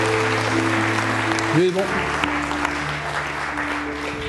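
A church congregation claps during a Sunday worship service, continuous applause under a voice speaking and a held organ or keyboard chord.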